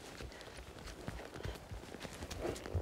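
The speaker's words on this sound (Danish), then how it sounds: "klapp litt av hestene når de er flinke" Horses' hooves clip-clop on the ground in a steady, close, uneven patter of soft thuds that continues throughout, with faint background noise and no clear talk.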